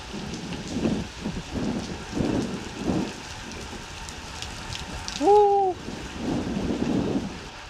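Steady rain patters on surfaces in a continuous wash while cycling under rock overhangs in Switzerland, with a short high chirp or squeak standing out briefly near the end.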